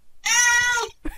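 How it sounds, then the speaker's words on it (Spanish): A cat meows once in an RPG video game, a long, loud, tonal cry lasting most of a second, followed by a brief quieter sound. "Sobre todo el maullido de este gato"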